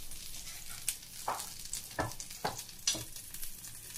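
Butter sizzles softly in a small frying pan, a quiet steady crackle punctuated by several sharp stirring clinks and scrapes spaced about half a second apart.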